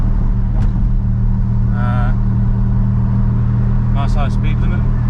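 Turbocharged Holden Commodore with a stock Ecotec engine out on the road, its steady low engine drone running continuously from inside the car, with a couple of brief higher chirps over it.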